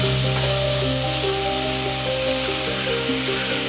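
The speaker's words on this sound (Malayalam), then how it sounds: "രണ്ട് മിനിറ്റ് നമുക്കൊന്ന് ഇളക്കി കൊടുക്കണം." Chicken omelette mixture is stirred in a frying pan, giving a loud, unbroken sizzle with a steady humming tone beneath it and no talking.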